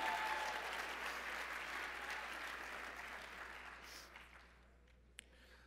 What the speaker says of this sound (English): Let's give the Omni a round of applause again.